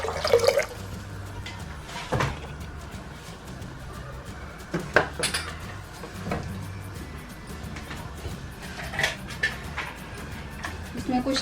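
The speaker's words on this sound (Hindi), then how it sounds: "ये 3 कप हम पानी डाल देंगे इसमें।" Three cups of water are poured into a pot of black-eyed beans (lobia) for a mutton curry, making intermittent splashing and dripping with occasional sharp knocks against the pot, close and moderately loud.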